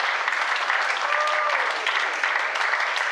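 Steady, loud applause from an audience at an open-house fashion presentation, a dense continuous wash of clapping without pause.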